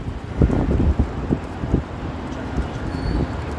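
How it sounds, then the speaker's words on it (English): Outdoor wind buffeting at Union Station in downtown Toronto, with irregular gusts hitting the microphone in short bursts over a steady background rumble. "There's like little gusts that just come out of nowhere."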